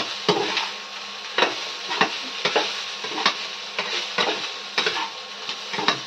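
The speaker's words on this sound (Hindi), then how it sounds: "चावल डाल दिए हैं और अच्छा से इसको मिलाएंगे" Rice being stirred into cooked onions in a pan, with a rhythmic series of scraping strokes over a soft frying sizzle, close and moderately loud, no talk.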